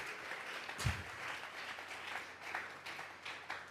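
A church congregation at a Sunday service gives a soft, sustained round of applause offered to God, with faint clapping spread through the room at low volume.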